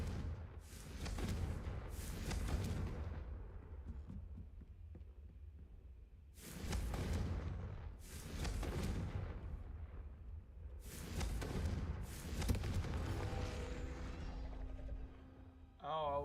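Repeated Confringo fire spell blasts in the Hogwarts Legacy video game, several loud bursts coming in pairs with rumbling tails between them, and faint talk in the background.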